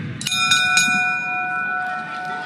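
A boxing ring bell at a heavyweight fight in London rings out in three quick clangs, then its bright metallic tone rings on and fades over a low arena murmur.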